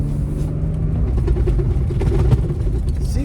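A third-generation Toyota Tacoma truck drives with a loud, rumbling engine drone that shifts slightly in pitch, though any gear grinding stays hard to pick out.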